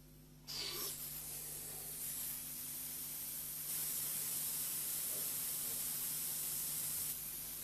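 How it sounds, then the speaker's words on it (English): A Sherwood M410 flame photometer's nebulizer sprays sample solution into a fine mist, giving a steady, even hiss that begins abruptly and holds constant over a low electrical hum. "The air flowing into the nozzle at the front of the unit draws solution up a thin tube and converts it into a mist."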